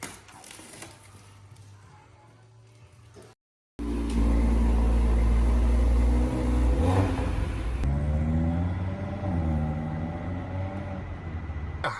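An Audi RS3 8Y on the road, heard from inside the cabin as a low, steady engine drone that rises and falls with throttle and gear changes, after a quieter opening stretch.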